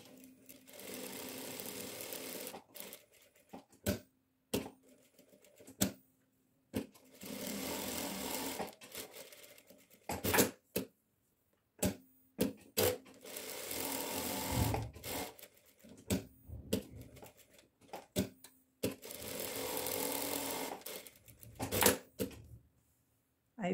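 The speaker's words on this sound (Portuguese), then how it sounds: "Vou fazer um pesponto larguinho, largura de meio pezinho de máquina." A domestic sewing machine runs a wide topstitch along the placket of a chemise dress, buzzing in several close, steady bursts of a few seconds each, separated by short pauses and clicks.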